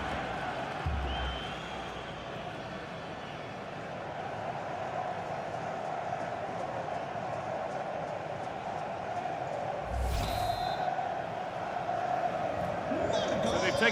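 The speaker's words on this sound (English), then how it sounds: "Well, just listen to this crowd. They want a bit more." A simulated stadium crowd roars after a goal in the FC 26 football game during a World Cup 2026 match, a dense, steady wash of cheering with a couple of low thumps and a voice talking over it.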